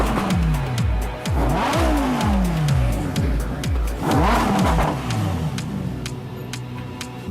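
A Lamborghini Huracan EVO V10 on a factory test run is floored repeatedly: sharp rising revs climb and drop in quick succession, a loud, close, howling engine with a short gap before another burst of revving.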